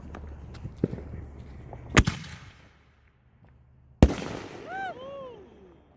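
An artillery shell firework launches with a sharp thump, followed by a loud burst after a pause and crackling with whistling trails, heard outdoors at moderate distance with a voice briefly audible.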